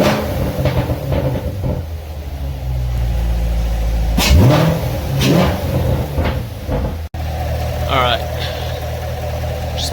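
A C7 Corvette with a newly installed intake idles with a deep rumble, then rips through a couple of sharp revs that rise and fall, with a clunk and some voices mixed in.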